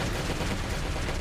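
Explosion in the survival video game Last Day On Earth: a loud, dense burst of broadband blast noise filling the whole short moment, close and alone with no talk.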